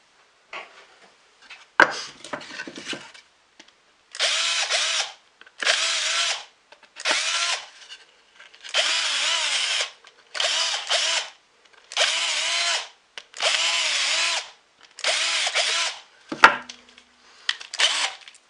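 A power drill bores holes through wooden boards in repeated bursts, each a few seconds of whining motor with gaps of quiet between, about ten passes in all, close and clear with small handling knocks.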